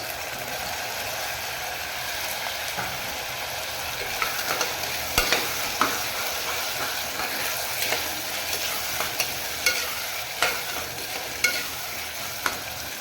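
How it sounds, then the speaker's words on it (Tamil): Tomatoes frying in a pan for green peas pulao, giving a low continuous sizzle broken by scattered sharp clicks and scrapes as they are stirred. The level stays moderate and even, with no voices. "இப்போ நம்ம தக்காளி சேர்த்துக்கலாம்."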